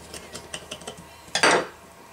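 A knife scraping leftover muscle and connective tissue off a bone, several light, quick scratchy strokes followed by one louder, longer rasping scrape, close up with no talk.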